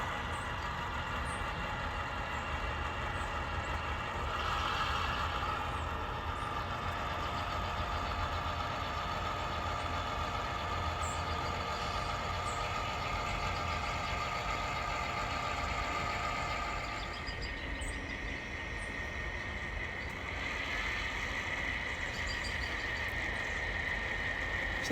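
A GP7 locomotive engine runs steadily at a distance, its continuous mid-pitched diesel drone and rumble holding for about 25 seconds with a slight dip near the end, no voices present.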